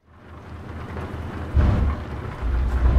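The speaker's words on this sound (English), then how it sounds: "I think it looked pretty good with the rain" Rain with rumbling thunder in Euro Truck Simulator 2, a steady wash of rainfall under low, rolling booms that swell midway and again near the end, with no talking.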